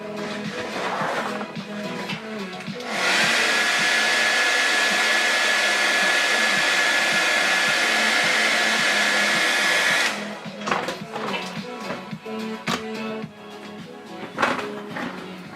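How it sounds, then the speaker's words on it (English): A hair dryer blows loud and steady for about seven seconds while styling hair, starting abruptly and cutting off just as abruptly, with quieter handling noises before and after. "So let me blow dry this."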